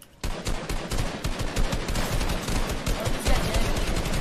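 Rapid gunfire in a Fortnite squad match, dense bursts of shots cracking continuously and loudly for several seconds with no pause after a brief quiet start.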